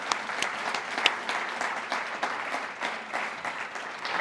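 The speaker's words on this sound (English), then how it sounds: "Give yourselves a round of applause" Audience applause at a chamber of commerce awards gala, a roomful of hands clapping steadily with a few sharper claps standing out, continuous for the whole stretch.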